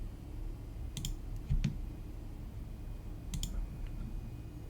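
Computer mouse buttons clicked while shift-selecting components, a few sharp close clicks in quick pairs against a quiet background.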